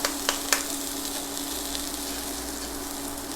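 Rice tossed into a hot pan with a little oil gives a steady, bright sizzle, opening with a few sharp clacks as the grains land, then settling into an even, continuous frying hiss with no talk.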